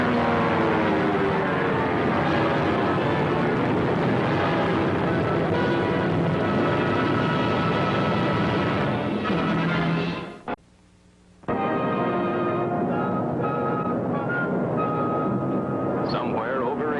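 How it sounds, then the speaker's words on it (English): A modern airplane engine drones as a radio drama sound effect, a steady, loud, full roar that cuts out for about a second, then returns unchanged. "Somewhere over Asia, the modern airplane blends with the endless clouds"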